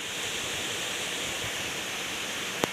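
Water pours steadily through a dam near a hillside temple in the Sasan Gir countryside, a continuous broadband rushing roar that holds at an even level with no speech over it.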